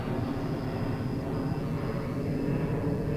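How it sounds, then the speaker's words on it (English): A Boeing 757 airliner passing at DFW Airport at night, a steady broad engine roar that holds evenly throughout, with a faint high whine above it and no voices. "that 757 you just saw go through your screen"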